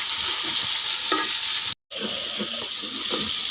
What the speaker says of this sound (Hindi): माशाल्लाह मसाला तैयार हो रहा है।